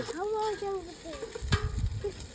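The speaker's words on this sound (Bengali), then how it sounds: "রান্না হচ্ছে, রান্না" Food cooks in a pan with a soft frying crackle and the scrape of stirring, along with a few short squeaky tones early on and a burst of clatter midway.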